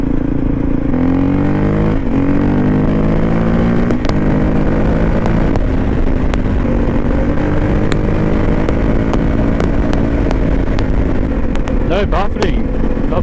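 A Honda CRF450 rally motorcycle on its first shakedown run holds a loud, steady engine drone with rising pitch through gear changes, mixed with heavy wind rush and occasional clicks.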